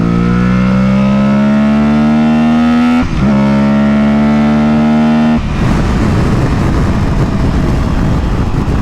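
A 2023 Aprilia Tuareg 660 motorcycle engine pulls hard in third gear, its loud close tone climbing steadily, dipping briefly at a shift, then rising again before breaking into a broad roar of wind and engine noise.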